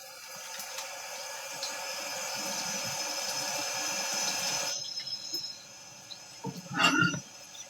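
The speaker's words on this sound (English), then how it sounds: "Let me wash my hands." A tap runs into a sink while hands are washed, a steady splashing hiss that stops partway through, followed by a few brief handling sounds and a short burst of water.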